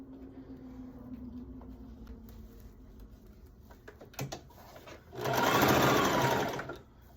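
A sewing machine stitches down the side seam of a two-toned skirt made of shifting sequin fabric, first in soft intermittent runs and then in one loud, steady burst of stitching near the end.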